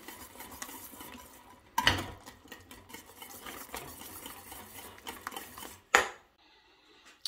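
A utensil scrapes and clinks against a bowl while chocolate cake batter is mixed, with irregular close taps, a couple of sharper knocks, and a quieter stretch at the end; no talking.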